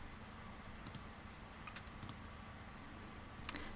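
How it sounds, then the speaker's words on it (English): Computer keyboard being typed on to enter a formula for thread minor diameter, with quiet scattered key clicks in small bursts over a low steady background hum, no talking. "So let me type that out."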